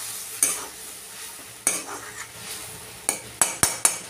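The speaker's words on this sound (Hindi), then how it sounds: "और अभी इसको हम चला देते हैं।" Fish curry with a powdered masala mix of coriander and cumin stirred in a pan, a spoon scraping and clinking against the metal in sharp separate strokes, quicker toward the end, with a soft sizzle underneath.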